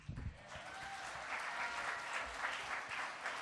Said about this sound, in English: So I'd like you to keep your applause going